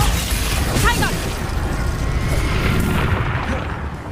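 A Confringo fire spell explodes in Hogwarts Legacy with a loud, sustained blast and rumble over dense game sound and music, while a voice talks over the top.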